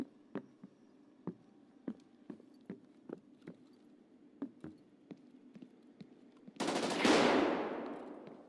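Irregular single gunshots in the tactical shooter Escape From Tarkov, about a dozen sharp reports at moderate distance spaced roughly half a second apart, followed by a sudden loud rushing burst of noise that slowly fades.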